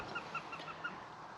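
Kermit, a baby gosling, gives a run of small, high peeping calls, about five evenly spaced chirps up close over a faint steady hiss, with no other voices.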